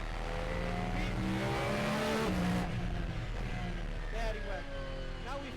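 A race car billed as the world's loudest screams through repeated high revving passes and gear changes, loud and harsh, with people talking over it.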